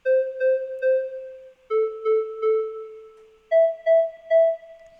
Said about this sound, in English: Almost like an organ chiff sort of a sound, and reverberating through some Gothic cathedral